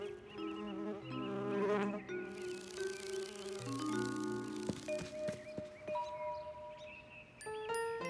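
A cartoon bee buzzes through a children's animated scene, its steady drone wavering among bright musical tones and chimes, with no talking.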